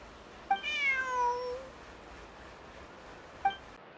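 A cat in a video game gives one clear, rising-then-falling meow, with a soft glassy clink at its start and another lone clink a few seconds later, over a quiet background.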